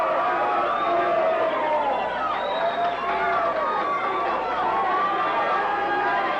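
A 1987 G.L.O.W. women's wrestling arena crowd cheering on Tina Ferari, a dense wash of chatter and shouts holding steady throughout, with an announcer's voice layered over it.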